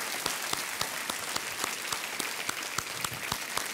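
A studio audience on a quiz show applauds steadily, a dense wash of many hands clapping with a few sharper individual claps standing out throughout.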